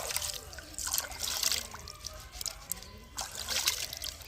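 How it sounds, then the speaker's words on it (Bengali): Taro leaves washed one by one in a bowl of water, with sloshing and splashing bursts between quieter trickles and drips, close up and without talk. "পাতাগুলোকে সুন্দরভাবে ধুয়ে নিই একটু করে এক একটা করে পাতা জলের মধ্যে ধুয়ে নিই"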